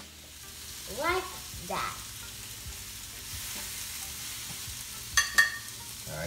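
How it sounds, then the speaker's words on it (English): Butter bubbling and sizzling in a pan during lobster bisque preparation, a steady soft fry under a couple of brief voice-like bursts and a pair of sharp clinks near the end, with a short spoken phrase. "Make sure to do it with the butter on the pan to let it bubble and fix."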